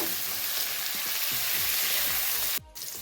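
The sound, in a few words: cauliflower frying in oil on medium heat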